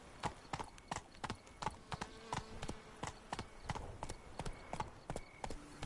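Roach, a horse in The Witcher 3, gallops with rapid, evenly spaced clip-clop hoofbeats close to the listener, holding a steady rhythm throughout over a soft ambient bed.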